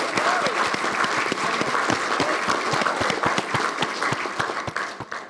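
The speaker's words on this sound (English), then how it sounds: "could you please give a big round of applause to Nasmin," An audience at a scholars' awards event gives a big round of applause for three judges, dense and continuous hand-clapping that fills the room and tapers off in the final second.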